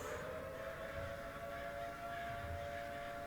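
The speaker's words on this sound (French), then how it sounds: "Pourquoi il y a une sirène d'alarme?" An air-raid alarm siren of the kind used in wartime wails steadily from a distance, a sustained tone over a thick, rumbling background with no break across the few seconds.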